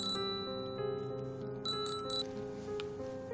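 A phone rings indoors during a scene from a TV drama series, a bright bell-like ringtone melody repeating steadily at moderate loudness over a faint room background.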